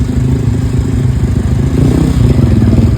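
A motorcycle engine runs loud and close on a road, a steady throbbing drone with slight rises in revs throughout, with no talk.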